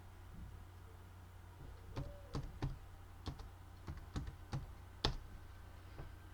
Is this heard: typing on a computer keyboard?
yes